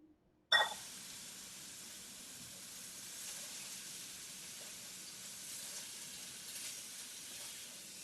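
Chopped onions hit a hot pan with a sharp crackle, then settle into a steady, soft sizzling hiss that carries on evenly, with no voices over it.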